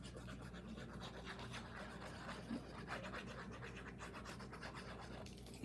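A hand rubs the back of a glued paper card layer, a faint continuous scratchy rubbing, close and steady for a few seconds.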